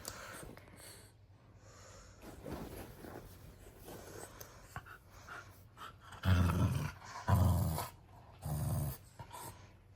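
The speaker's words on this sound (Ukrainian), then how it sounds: "Ти ще й гавкать вмієш?" A dog growls and barks in three loud, deep bursts near the end, close to the listener, after a stretch of quieter snuffling and background movement.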